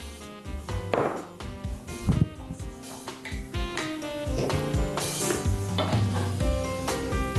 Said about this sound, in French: Par la suite, nous rajoutons l'oignon haché.